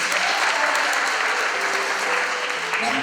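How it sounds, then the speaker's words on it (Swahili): A church congregation at a Sunday Anglican service claps for Jesus, a dense, continuous burst of applause filling the room for about three seconds. "Piga makofi kwa Yesu."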